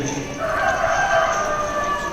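A rooster crows loudly and close, one drawn-out call lasting about two seconds with no talk over it.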